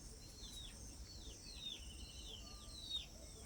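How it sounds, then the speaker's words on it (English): Small birds chirp faintly in short, repeated high calls over a quiet, hissy background. "Birds chirp away."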